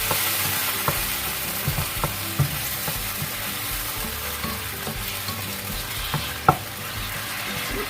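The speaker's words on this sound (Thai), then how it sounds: "นี้เราก็ผัดได้เลยนะคะ" Eggplant stir-fries with soybean paste in a hot pan: a constant sizzle under scattered knocks and scrapes of a spatula against the pan, one sharper clack near the end, and no speech.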